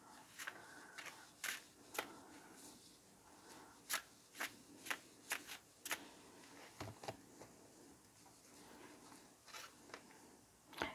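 Vintage Wisdom Oracle cards are shuffled by hand in a quiet room, a series of soft, close riffling and slapping bursts coming irregularly, about a dozen spread across the stretch.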